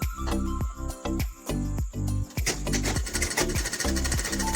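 Sewing machine stitching fabric for a little girl's skirt, a loud, close, fast mechanical rattle running in bursts with brief pauses and speeding up toward the end.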